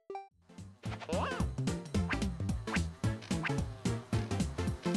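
Cartoonish honking quacks from the duck character in the platformer Windswept, repeated in a busy run over bouncy game music and effects, loud and steady throughout.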